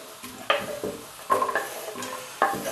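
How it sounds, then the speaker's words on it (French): Onion and carrot stirred in hot olive oil, a soft sizzle broken by several sharp scraping strokes of a utensil against the pan, close and with no voices. "j'ai donc mon huile d'olive qui chauffe. Je vais mettre là-dedans mon oignon,"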